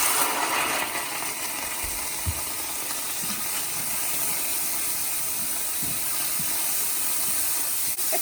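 Loud, steady hiss of broth steaming in a hot pan, continuous throughout with a few soft clicks.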